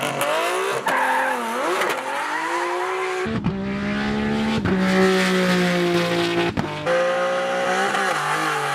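Nissan R34 GT-R fitted with a VR38 engine, its engine and exhaust roaring loudly at close range with rising and falling revs and sharp breaks between pulls, a brief spoken word near the start.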